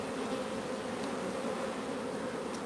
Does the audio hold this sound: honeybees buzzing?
yes